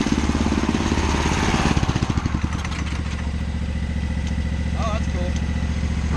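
A Yerf-Dog go-kart's small engine chugs and rattles up close, revving briefly before settling into a steady rough idle, with a voice speaking over it.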